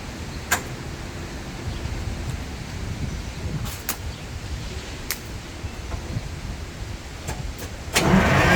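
An old Detroit Diesel engine being cranked after 25 years off the road, a steady low rumble throughout with sharp clicks scattered over it and a louder rough surge at the very end.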